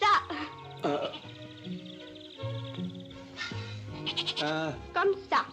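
Several bleating goats call out in short, wavering cries, some overlapping, close by with a little background noise between calls.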